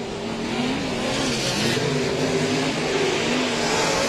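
Sprint cars race at Heart O' Texas Speedway in a Bandit Outlaw Sprint Series event, engines droning loudly and continuously at high revs with wavering pitch as the pack circles the dirt oval.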